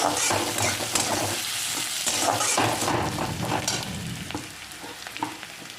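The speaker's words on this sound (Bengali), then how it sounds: "পেঁয়াজটা নাড়াচাড়া করে এখানে হালকা ভেজে নিতে হবে" Onions sizzle as they are stirred and lightly fried in a pan for a katla fish curry, with a steady close frying hiss and repeated scraping strokes of a utensil, no voices.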